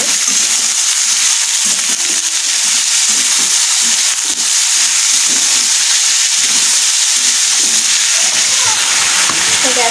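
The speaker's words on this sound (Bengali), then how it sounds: "দিয়ে এটাকে ভালো করে ভাজা ভাজা করে নেব।" Chopped lote fish (Bombay duck) with salt fries in a pan for jhoro, making a loud, continuous hissing sizzle close by, with faint intermittent stirring beneath the steady steam-like wash and no audible talk.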